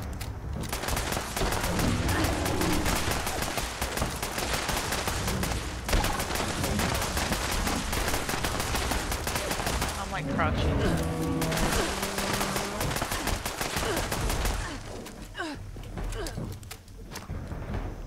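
Rapid rifle gunfire in the Fallout 76 video game during a fight with a legendary Noxious Sheepsquatch, dense loud volleys continuing through most of the stretch with brief pauses, and a voice speaking over parts of it.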